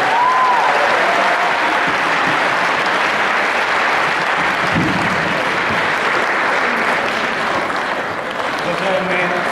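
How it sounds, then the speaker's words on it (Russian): Audience applause at a Defender of the Fatherland Day ceremony in Ruza, a steady loud wash of clapping lasting throughout, with faint voices mixed underneath. "Ваши аплодисменты."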